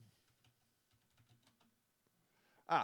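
Keystrokes on a computer keyboard while entering a web search, a quiet, scattered run of light clicks followed by a sudden loud clattering burst at the end.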